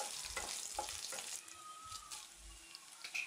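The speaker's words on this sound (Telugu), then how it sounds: "జీలకర్ర, కరివేపాకును కూడా వేసుకుని ఒకసారి గరిటెతో బాగా కలుపుకోవాలి." Cumin seeds and curry leaves sizzle steadily in hot oil while a ladle stirs them, with soft scraping strokes over the continuous crackle and no voices.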